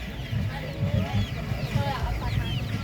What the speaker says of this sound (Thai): ไก่ซิลกี้